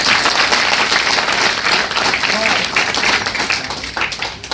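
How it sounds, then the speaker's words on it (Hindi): Children clap together in welcome at a science centre, a loud, dense burst of applause that carries on for several seconds and slowly thins toward the end, with voices faintly mixed in. "अपना वेलकम करने के लिए एक ताली बजा दो जल्दी से"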